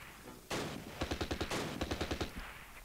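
Gunfire in the World War II game Close Combat: The Longest Day, with rapid machine-gun bursts in quick rhythmic strings after a sharp opening blast, loud and close with no talking.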